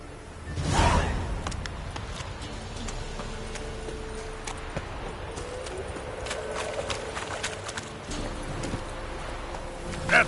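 Geralt's horse Roach gallops in The Witcher 3, hooves drumming in a quick steady clip-clop rhythm close by, opening with a loud whoosh and continuing over a low ambient wind.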